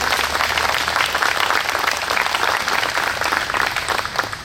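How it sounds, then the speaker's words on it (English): An audience at a Licking County Courthouse marker celebration applauds steadily, a dense, sustained wash of clapping from a gathered crowd that holds level from start to finish, with no talking over it. "Let's have a round of applause for the"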